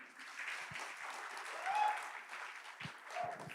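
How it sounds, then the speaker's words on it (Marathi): A stand-up comedy audience claps together, a soft, sustained patter of many hands that swells briefly and fades, heard from some distance in a quiet room. "एकदा स्वतःसाठी जोरात टाळ्या मारू शकता तुम्ही"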